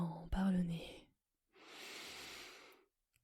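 A slow, steady inhale through the nose during a relaxing sophrology session for sleep. It comes close and soft after a brief vocal sound, then ends in silence.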